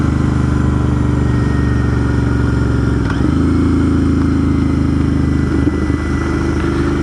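A 2021 Royal Enfield Interceptor 650 parallel-twin motorcycle drones steadily and loudly while riding on a winding Vermont road, its engine note holding even with a brief shift in pitch partway through and wind noise underneath.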